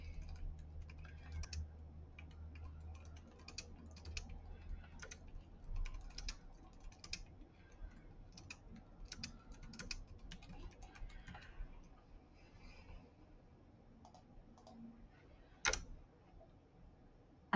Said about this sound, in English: I'm just typing that in here.